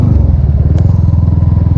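A motorcycle exhaust fitted with a new replacement muffler, after the original exhaust pipe broke, idles close by with a steady, even low putter and throb.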